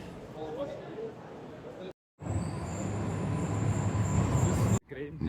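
Inside an overcrowded German passenger train, a steady rumble of wheels and carriage fills the air with a thin high whine. The sound cuts out briefly twice and carries on loud and constant in between.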